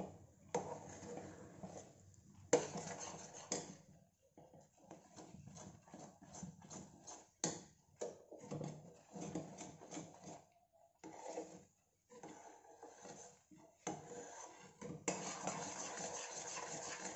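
Metal spoon scraping and stirring milk powder barfi with cooking sugar in a kadhai over medium gas, a steady run of close clinks and scrapes with a few short pauses.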